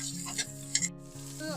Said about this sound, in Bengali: এখন আমি এই পর্যায়ে 1 চামচ পরিমাণের আদা রসুন বাটা দিয়ে দিলাম। তো আদা রসুন বাটাটা একটু ভেজে নেব।